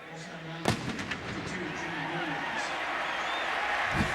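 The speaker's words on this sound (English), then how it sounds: "What are they shooting the cannon off for now?" A cannon booms once near the start inside a football stadium during a 2006 Seattle Seahawks versus Tampa Bay Buccaneers NFL game, followed by a roaring crowd that carries on beneath broadcast commentators.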